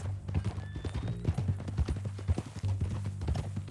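Horse hooves clop in a steady walking rhythm on a dirt path in Red Dead Redemption 2, close and clear, with a brief whinny-like tone near the start and no speech.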